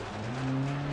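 A rally car in the Dirt Rally video game drives with a steady engine drone that climbs in pitch, its tires scrubbing and skidding on the stage surface; a close, continuous sound with no talking.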